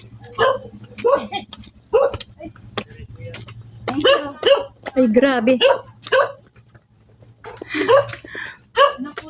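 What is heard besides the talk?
dogs barking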